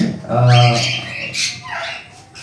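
Cockatiels, adults and babies, kept indoors give a short burst of harsh, loud squawks close by, with a strong tonal call near the start and scratchier calls trailing off.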